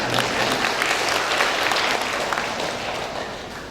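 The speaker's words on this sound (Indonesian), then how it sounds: "Jangan ke saya tepuk tangannya, ke Basnas tepuk tangannya." Applause from an audience at a Ramadan aid distribution event for Quran teachers and the poor, dense and loud from the start, then easing slightly as it continues, with no talk over it.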